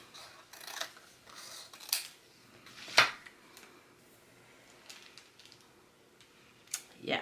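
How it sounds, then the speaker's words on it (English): Scissors snip a skinny strip from a sheet of patterned scrapbook paper for a paper-weaving art journal, giving a series of quiet, crisp cuts with one sharper snap in the middle and a few more near the end, with no talking. "I am going to cut a skinny strip from this"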